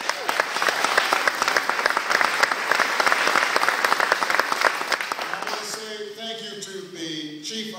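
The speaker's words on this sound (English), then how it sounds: "Give him a big round of applause." A crowd at a fire station claps loudly for a fire and EMS chief at a presidential visit, sustained applause for several seconds that cuts off and gives way to a voice speaking.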